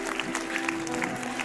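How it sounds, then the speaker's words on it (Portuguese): Church audience applauding after a joke, a brief, fairly faint patter of clapping from the crowd with voices mixed in. "Aplausos pra essa piada, gente"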